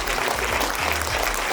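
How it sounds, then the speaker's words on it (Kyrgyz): Audience applause for the actors at a closed screening of a new Kyrgyz comedy film, steady close clapping from a small crowd with a low rumble underneath, continuous throughout. "бир кол чаап коюңуздар жигиттерге"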